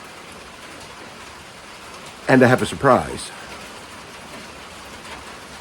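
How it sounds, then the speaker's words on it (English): Early morning rain falling, heard from a porch beside a cultivated field, a steady soft hiss of drops throughout, with someone briefly speaking over it midway. "I'm out here enjoying the early morning rain on the porch"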